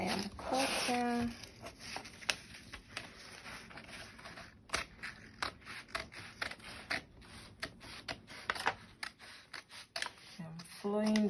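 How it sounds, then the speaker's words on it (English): Scissors cut along the curve of a paper half-scale basic bodice pattern, producing a run of close, crisp snips and paper rustles, with a voice heard briefly at the start and end. "Please look at the way I am cutting."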